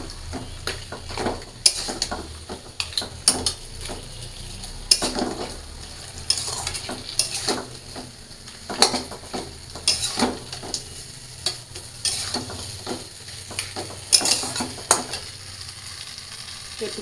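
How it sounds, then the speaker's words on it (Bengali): Potatoes sautéing for a curry in a pan, stirred with a spatula: a soft bed of frying sizzle broken by frequent scraping strokes against the pan in an uneven rhythm. "সবগুলো দিয়ে একটু কষায় নেব, তারপরে ঝোল দিব।"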